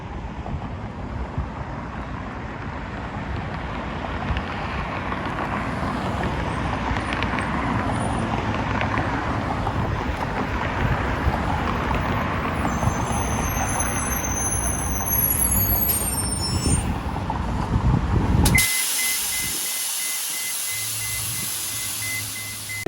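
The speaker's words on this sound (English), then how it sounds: "But I do see the bus coming." A public transit bus rumbles in and pulls up at a stop, its engine and road noise building steadily for most of the clip. The noise then cuts to a quieter interior hum with a brief electronic tone.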